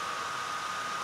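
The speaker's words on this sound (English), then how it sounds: "Every time I render, my fans kick in and make a right racket." Computer cooling fans whir loudly while a 3D landscape render runs, a steady even broadband rush with no rhythm or change across the short stretch.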